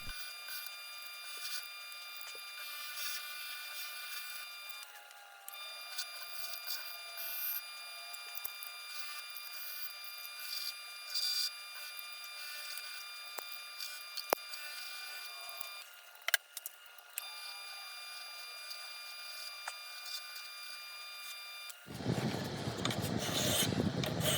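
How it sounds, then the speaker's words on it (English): A fiber wheel works over the steel part of a Lenox hacksaw, giving a faint, steady motor whine with a light rubbing rasp. A louder, rougher burst of grinding comes in at the very end. "I'm going to work on the steel part of this hacksaw with the fiber wheel"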